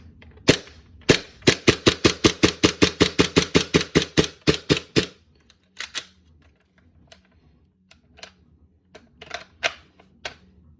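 A KJW KC02 gas gun fitted with a PTDR-22 kit is dry-fired with the magazine bolt lock disabled, giving a rapid string of sharp, evenly spaced clacks, then a few scattered handling clicks, close up and with no talk.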